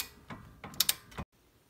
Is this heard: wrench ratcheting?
yes